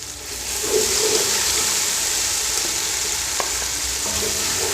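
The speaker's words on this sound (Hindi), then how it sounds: "और मज़ीद 2 से 3 मिनट के लिए इसे फ्राई करेंगे ताकि मसाला जात हमारे अच्छी तरह फ्राई हो जाए।" Spices such as red chili, dried coriander, salt and cumin fry and get stirred through vegetable fried rice in a pan, a steady close sizzle throughout with occasional faint scrapes and clinks and no talking.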